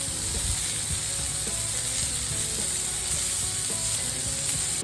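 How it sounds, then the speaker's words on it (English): Smashburger patties sizzle loudly and steadily on a hot oiled griddle, a dense continuous frying hiss with faint scraping clicks, heard close up with no talking. "let's get some sound on here so you can hear that sizzle"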